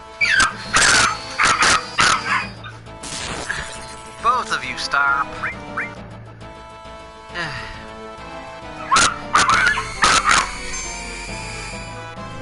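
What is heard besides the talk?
dog barking and whimpering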